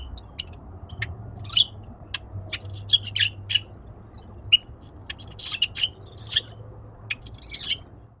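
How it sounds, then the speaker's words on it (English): Sharp, scattered bird calls and chirps ring out at irregular intervals in a suburban backyard garden, over a low, steady background rumble, moderately close and clear. "That is actually the sound of the birds in my backyard."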